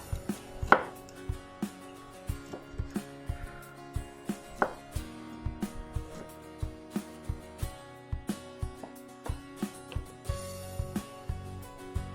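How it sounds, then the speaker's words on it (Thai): A knife chops pork into pieces on a cutting board for red roast pork over rice, with steady, sharp knocks repeating through the whole stretch, close and fairly loud, with no one talking. "หั่นหมูนะคะเป็นชิ้น"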